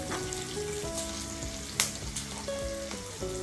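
Asafoetida and a slit green chili hit hot oil in a home kitchen, giving a close, steady crackling sizzle with scattered sharp pops and faint utensil clinks, no voices.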